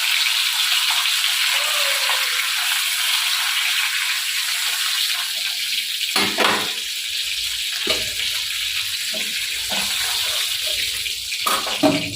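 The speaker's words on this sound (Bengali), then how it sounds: "এবার মাছটা ভাজা হয়ে গেছে" Fish frying in a pan gives off a steady, close broadband sizzle throughout, with a few louder bursts and clatters in the second half.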